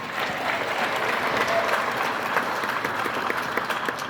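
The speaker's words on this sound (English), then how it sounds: "Give yourselves a big round of applause" Audience applause fills a live AGT Las Vegas show in 2023, a dense, steady wash of clapping from a large crowd that holds evenly for the whole stretch.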